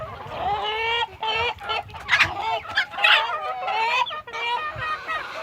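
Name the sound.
chickens clucking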